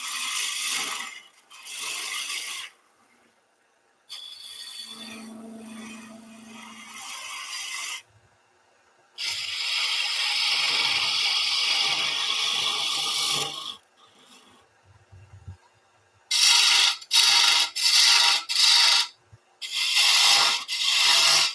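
A wooden kitchen scoop is rough-turned on a wood lathe in loud bursts of scraping, rasping cutting. Gaps of near silence fall between them, the last stretch breaking into short choppy passes, with no talking.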